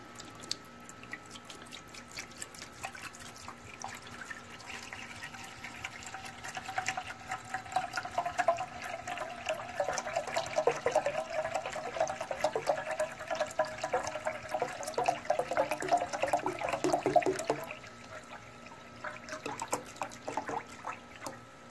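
Water from a 2-liter bottle pours into the tank of a VEVOR ultrasonic cleaner, a steady splashing, gurgling stream that rises in pitch as the tank fills, then stops near the end, close and fairly quiet.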